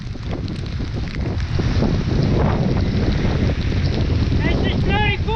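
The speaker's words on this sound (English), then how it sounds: "It's blowing 45 knots." Strong wind roars steadily across a sailboat riding at anchor in a 45-knot blow with heavy rain, a dense broadband rush with gusting swells and a brief whistling tone near the end.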